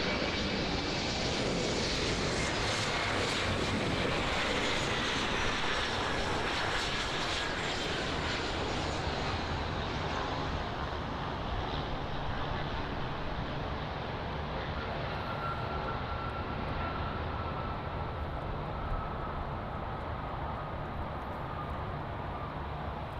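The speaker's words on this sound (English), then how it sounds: "Our next arrival is American Airlines, Embraer" An American Airlines Embraer E175LR jet arriving at Miami International Airport, its engine roar loud at first with a descending whine, then slowly fading and thinning as the aircraft passes and rolls away.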